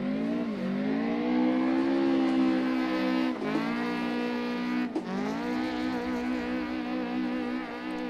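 A car drifts in the Assetto Corsa racing game with a G920 wheel, its engine holding a high, strained rev tone that dips and climbs again twice as the throttle shifts, loud and alone.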